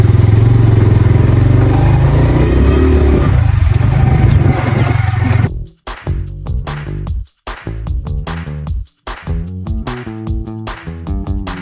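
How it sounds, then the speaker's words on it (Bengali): A motorcycle engine roars loud and near for about five seconds as a steady, rough rumble, then stops abruptly and gives way to rhythmic music. "এই যে বাইক নিয়ে আসছে আমার জন্য"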